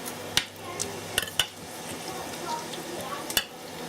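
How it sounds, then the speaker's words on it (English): Potato dumplings with butter stirred in a pan, a soft sizzle under several sharp utensil clicks against the pan, close up. "You can just put the butter in and give it a bit of mix"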